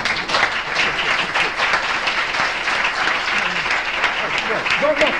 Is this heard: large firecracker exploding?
no